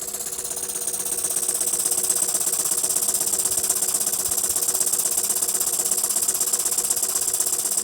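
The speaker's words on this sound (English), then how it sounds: "It's still a Jensen 50 and the king of the toy steam engines" A 1953 Jensen 50 toy steam engine runs steadily, a continuous close mechanical chugging and rattling with a fast, even beat and high hissing, unchanging throughout.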